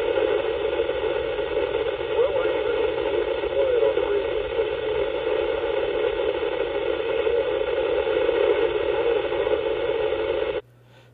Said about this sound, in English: it's a lot of static behind his signal